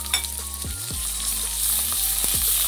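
Ground spice paste hits onions already fried in a pan for a green jackfruit vegetarian curry, bursting into loud, close sizzling over a low steady hum. A few sliding tones also sound, with no voices.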